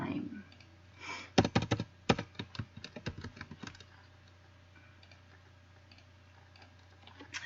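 Computer keyboard typing while working in Microsoft Word, a quick burst of close, crisp keystrokes and clicks in the first half, then a faint steady hum with only a stray click.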